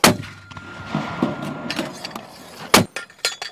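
Marines firing an AT4 or SMAW rocket launcher on a range, with sharp percussive blasts, one at the start and a heavy one near the end, separated by clanking and lighter impacts.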